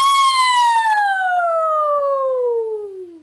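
Choir singers imitate a siren with their voices, a single loud sliding tone with strong harmonics that glides steadily downward from high to low over about three seconds, fading at the end.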